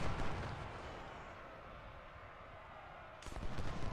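Massed musket volley and rolling gunfire in the Ultimate General: Civil War video game, a dense, booming barrage that fades to a rumble, then a fresh burst of shots near the end.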